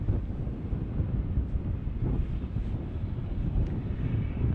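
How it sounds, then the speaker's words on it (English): Strong wind buffets a microphone on a rooftop at Heathrow Airport, a continuous loud rumbling roar with no pauses and no voices. "Really windy up here on this this roof all of a sudden"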